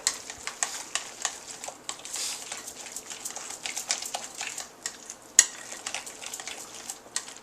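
Spinach being stirred into an artichoke spinach dip, with a steady run of soft scraping and clinking strokes in a bowl and one sharper knock near the end, moderately quiet and with no talk.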